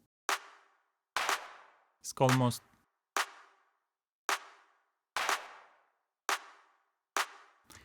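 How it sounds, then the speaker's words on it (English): A run of sharp, dry clap hits in an ethereal melodic techno loop falls at a steady, roughly one-per-second pace, each with a short, breathy decay. A brief spoken phrase cuts in between two of the hits. "The thing that I did that you haven't seen is the adding the clap."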